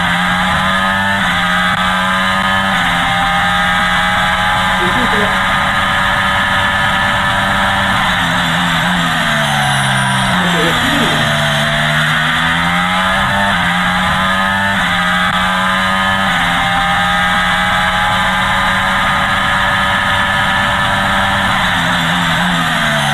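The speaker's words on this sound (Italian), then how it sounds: "sentiamo il rumore del motore che gira normalmente" Formula 1 car engine recorded onboard, a loud, continuous high-pitched whine holding steady for the whole stretch with small shifts in pitch, no voices.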